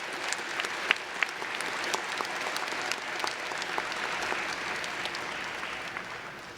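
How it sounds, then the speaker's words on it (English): An indoor audience at a December university convocation claps loudly and steadily for several seconds, a dense even roar of many hands with a few sharp individual claps standing out. "let's go ahead and give a round of applause for the friends and family of us."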